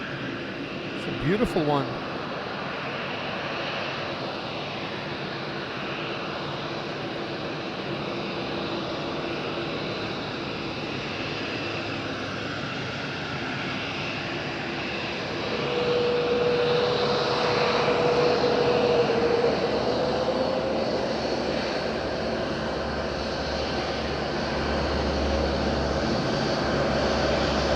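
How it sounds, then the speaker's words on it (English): Steady droning of Bombardier aircraft engines at Madeira Island airport on a windy day, a continuous hum that swells louder in the second half, with a person speaking briefly over it. "that Bombardier is super beautiful"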